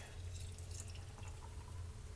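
Water pours steadily into a canning jar of black-eyed peas, a continuous close splashing trickle with no voices.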